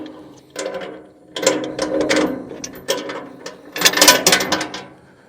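A metal latch on a dump trailer fender rattles and clanks in several short bursts of ratcheting, scraping metal over about five seconds, close by with no talk.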